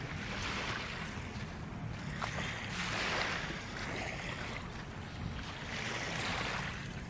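Sea waves at the Manila Bay shore at low tide, a steady wash of surf mixed with wind noise, continuous and fairly close.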